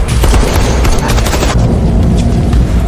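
Loud, dense gunfire crackles continuously in an AI-generated movie, a steady barrage of overlapping shots and booms with no pauses.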